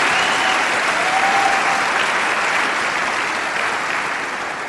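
A church congregation applauding during a worship service, loud and dense clapping that holds steady and then slowly tapers, with no voices.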